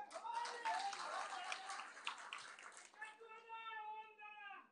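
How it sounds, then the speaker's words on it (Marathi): A crowd claps loudly and steadily for about three seconds, then the applause fades as a voice begins speaking. "मग का टाळी वाजवत आहे?"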